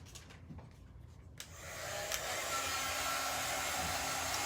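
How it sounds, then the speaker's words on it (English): A hair dryer is switched on to dry a handmade pumpkin book stack craft. After quiet handling noises, it starts with a rising whoosh and then blows with a steady, loud airy roar to the end. "Let's dry it and then we will dress it up a little."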